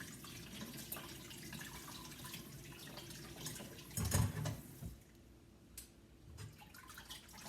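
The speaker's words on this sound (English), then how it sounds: "I'm just running some cold water in the potatoes that I put it in a colander" Cold tap water runs steadily and splashes onto potatoes in a colander, with a few louder gushes and clatters partway through.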